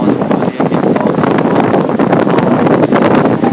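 A new Crompton ceiling fan running at speed two, a loud steady rush of blowing air close to the microphone, buffeting like wind with no speech.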